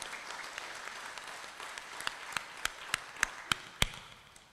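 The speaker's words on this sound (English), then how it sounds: "Let's give them all a round of applause for now." Applause for traditional leaders at a women's conference in Chuuk State, a soft, distant patter that gives way to a few louder, scattered individual claps near the end.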